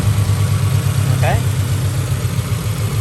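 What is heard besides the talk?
car engine idling with homemade cold air intake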